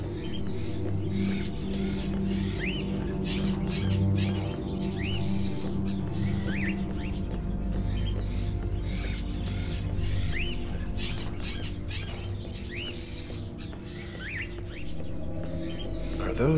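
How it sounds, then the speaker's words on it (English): Crows kept in cages in a house with an old sink and wood stove, Fahrenheit (Indigo Prophecy) video game: repeated chirps and calls over a steady, dense background of ambient sound and music, continuous throughout. "Are those crows in the cages?"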